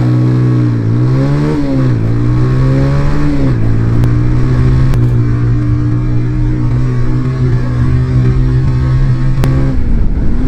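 A racing kit car accelerates hard in third gear during an acceleration test, its loud engine note climbing steadily with a brief dip at a shift, then holding a strained, high-revving drone close by with no talk.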